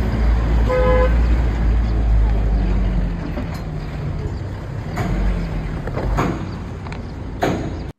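Vehicle horns toot repeatedly in a traffic jam on a Himalayan mountain road near Tugasi Village, short loud honks over idling engines and passing traffic, with no talking.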